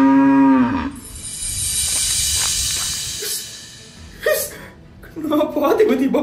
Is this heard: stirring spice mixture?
no